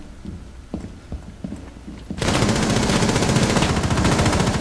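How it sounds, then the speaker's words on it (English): Gunfire in the tactical shooter Rainbow Six Siege: a few scattered sharp shots and thuds, then a sudden loud sustained burst of rapid automatic fire that continues to the end. "Everyone's shooting at each other."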